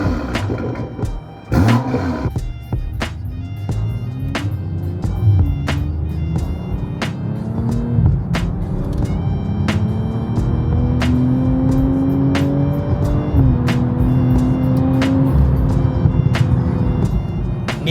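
A tuned BMW fitted with a downpipe revs and accelerates nearby, its exhaust note rising and falling through repeated throttle blips before settling into a loud, sustained drone.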